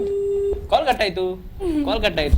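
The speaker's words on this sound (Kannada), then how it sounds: "ಓಕೆ, ಕಾಲ್ ಕೂಡ ಕಟ್ ಆಯ್ತು" A steady telephone tone sounds after a call is cut off, a single held beep at the start before a voice talks over the line for the rest.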